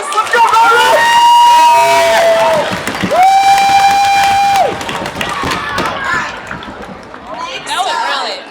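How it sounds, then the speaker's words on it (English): School audience cheering and clapping during a morning news broadcast, loud crowd noise with children shouting and whooping in long sustained cries, close and energetic, fading to scattered cheers. "Let's give them a big round of applause."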